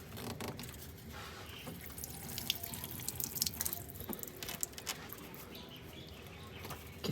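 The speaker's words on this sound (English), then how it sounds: "let's drain the coolant out of this bad boy and, well, the rusty water anyway" Rusty water and old coolant draining from a car radiator, a steady close trickle and spatter of liquid with scattered drips and splashes running throughout.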